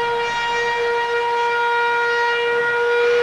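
Half-time siren at a rugby league stadium during the 2003 Great Britain v Australia second Test: one loud, steady tone held unbroken throughout, with no commentary over it.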